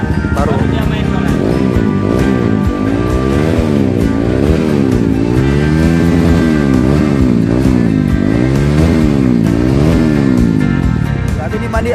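Honda CBR 150R motorcycle with a modified exhaust revving close by, its engine note rising and falling in repeated sweeps over a steady loud idle, with people talking over it.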